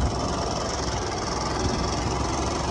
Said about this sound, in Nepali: यो बाइकको अलि अर्कै आवाज आयो।